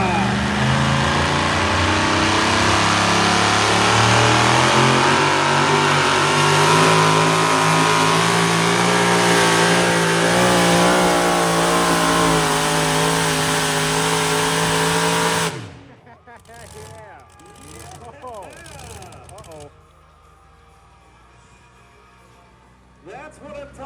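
A heavy-powered truck roars down the course at a tractor pull in Sandy Downs, Idaho. Its engine revs loud and sustained for about fifteen seconds, then cuts off suddenly into quieter crowd noise and an announcer's voice.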